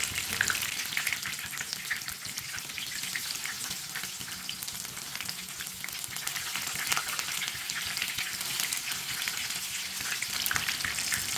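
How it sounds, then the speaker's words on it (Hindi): Brinjal (eggplant) slices frying in a pan over a low flame, a continuous crackling sizzle with bright spitting oil, steady and close, with no talking. "बैंगन को ना दोनों साइडों से अच्छी तरह फ्राई करना है"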